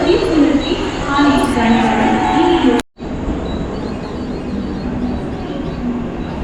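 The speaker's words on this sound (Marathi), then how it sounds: "बघा बघा हे सर्व ठाण्या गाड्या येतात आहे" A continuous rumble of local trains arriving at a Mumbai station during the Lalbaug festival crowds, with a brief cut midway, crowd noise and a voice talking over it.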